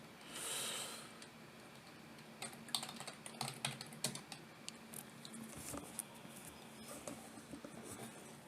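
Someone types on a computer keyboard, entering a sudo apt-get install OpenSSH command on Ubuntu, with soft, irregular clusters of key clicks close by in a quiet room.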